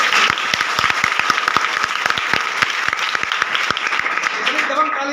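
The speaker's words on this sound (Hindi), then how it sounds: "अब जोरदार ताली बजाओ" Students in a classroom break into loud applause, many hands clapping in a fast, uneven patter that stays dense and close for several seconds before thinning out at the end, with voices mixed in.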